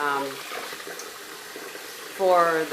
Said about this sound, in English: So I'm quickly putting water in this pot.